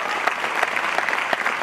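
Rhythmic, fairly close applause from an audience at an Amway Diamond celebration event, with individual claps punching through a steady wash of clapping.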